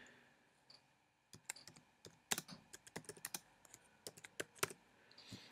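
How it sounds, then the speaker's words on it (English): Quiet computer keyboard keys tap in an irregular run of clicks as a code is typed in, close and soft with no voices. "then you got to type in your code."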